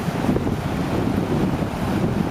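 Deep Creek flows through the flooded Zion Narrows canyon in a constant rushing wash of water, broad and steady, with wind buffeting the microphone and no talking.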